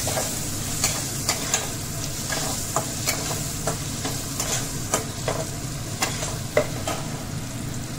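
Chopped tomato sautéing in a pan for a Bengali-style spicy ladyfinger curry, with a steady sizzle and scattered sharp scrapes of a spatula stirring, close and moderately loud, no voices.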